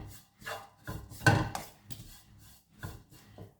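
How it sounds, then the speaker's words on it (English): A utensil scrapes and knocks against a pot of Kerala-style chicken curry in repeated irregular strokes, close up, with no talking. "So keep stirring."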